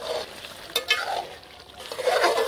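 Chicken cooks uncovered in a kadhai with a steady sizzle and frying crackle, broken by the scrape and clink of a spoon stirring, close up with no talk.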